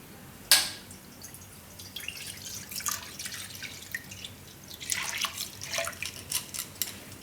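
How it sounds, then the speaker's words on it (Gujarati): Milk poured into a kadhai on the stove gives a sharp initial tap, then a light trickling, splashing stream that swells and patters unevenly toward the end, close and moderately loud. "આમાં આપણે આ દૂધ નાખી દેવું."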